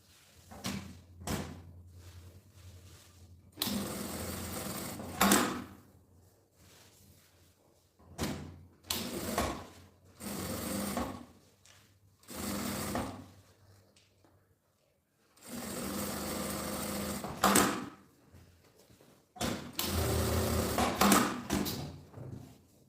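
Sewing machine stitching a seam around the edge of a fabric messenger bag, running in several loud bursts of a few seconds each with short pauses between, no talking.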